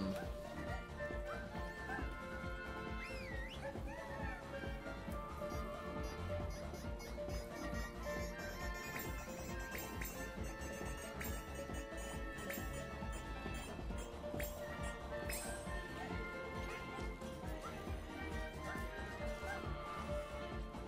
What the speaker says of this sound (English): When they bark, humanity listens.